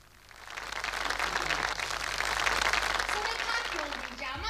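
A theatre audience applauds a stage performer, the clapping swelling from soft to a full, dense wash and holding steady with no voices over it.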